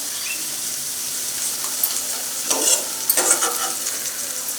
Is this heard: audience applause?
no